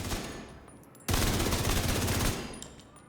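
Rapid automatic gunfire in a first-person shooter game, a loud continuous burst of shots lasting about a second and a half, fading into a short ringing tail.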